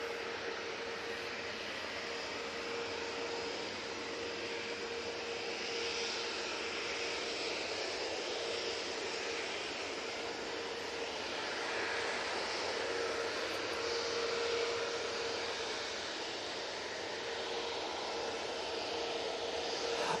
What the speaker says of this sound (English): that air tanker is now on the taxi